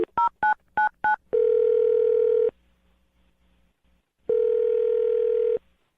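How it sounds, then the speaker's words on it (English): Touch-tone dialing on a telephone during a radio call: five quick key beeps in a row, then a long steady tone, a pause, and a second long tone, all close and clear with no talk. "I'll dial the phone number right now,"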